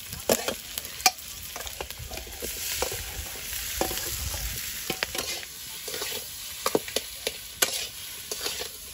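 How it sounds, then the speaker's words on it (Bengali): Five-spice seeds temper in hot oil with potatoes, a close, sputtering sizzle broken by sharp pops and spoon scrapes against the pan, with no voices. "একটু 5 ফোড়ন দেবো।"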